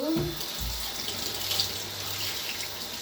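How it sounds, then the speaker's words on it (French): Tap water running steadily for rinsing, a close, even hiss of flowing water with a short splash at the start and no talk. "je vais rincer l'eau"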